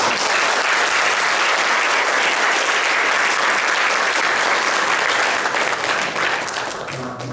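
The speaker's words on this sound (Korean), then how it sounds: "우리 다시 한번 좀 박수를 통해서 격려하면 좋겠습니다" Sustained, dense applause from a church congregation honoring its choir, loud and steady throughout, tapering slightly at the very end.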